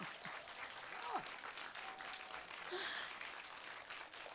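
Faint applause from a small audience at a pansori performance, steady clapping held at a distance for several seconds, with a few brief vocal or instrumental tones poking through.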